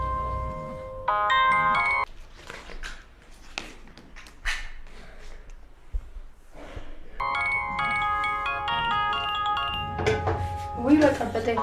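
A phone ringtone rings in repeated electronic melodic bursts in an indoor scene from an Ethiopian drama, with stretches of quieter movement between them and voices near the end.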